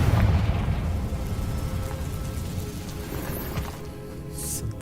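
A Confringo fire spell explosion in Hogwarts Legacy, a deep rumbling blast that rolls on and slowly fades across the clip.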